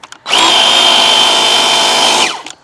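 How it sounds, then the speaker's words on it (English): A DeWalt 20V MAX cordless battery-powered pressure washer runs at high power while cleaning a bike, starting abruptly into a loud, steady high-pitched whine and spray that holds for about two seconds before cutting off. "Let's go high power and see what happens."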